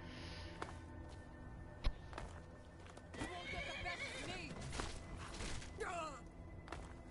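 A horse in the video game Skyrim whinnies with a rising, shaky call, set against a busy background of game sounds and thuds. A brief sharp impact lands early on, and some distant voice-like sounds mix in.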